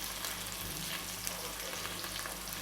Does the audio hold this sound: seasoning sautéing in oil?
yes